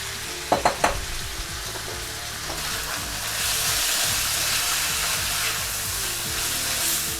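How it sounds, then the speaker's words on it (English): Pork and green beans stir-frying in a pan: a few sharp clacks open, then a dense, continuous sizzle that swells louder partway through, close and steady with no voices. "Now when the pork's just about finished, that's when we'll throw in the beans"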